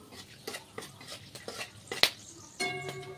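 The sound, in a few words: cinnamon and cloves frying and stirred in hot oil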